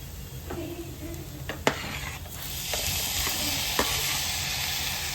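Masala and tomatoes sautéing in a pan for a squid fry, a steady sizzle with occasional sharp scrapes and knocks of a spoon against the pan.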